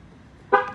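A Mahindra SUV sounds one short, loud horn toot as it is locked, after a moment of quiet.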